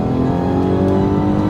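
A Rolls Royce Wraith, a heavy car with a twin-turbo V12 of over 600 horsepower, accelerates with a loud, steady, unbroken engine drone heard close up.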